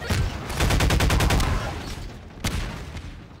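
An assault rifle in Half-Life 2 fires a rapid burst of about ten close, loud shots, then goes quiet before one more sharp shot. No one speaks.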